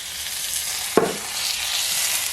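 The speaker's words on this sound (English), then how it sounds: "brown the edges of my roast just a little bit" Pot roast searing in a pan, a steady loud hiss of frying with one brief clatter as the meat is shifted, no talk.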